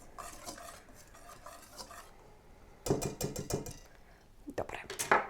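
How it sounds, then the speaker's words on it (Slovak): A spoon stirs apple cake batter in a bowl in a home kitchen, coming in bursts of close scraping and clattering, with a quieter stretch between the stirring. "A rovno zamiešame."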